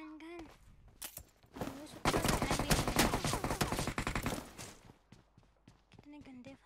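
Rapid bursts of automatic gunfire from the PUBG Mobile game ring out in a dense volley lasting a few seconds, with scattered single shots and footstep-like clicks around it and a player talking before and after.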